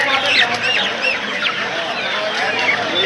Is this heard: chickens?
yes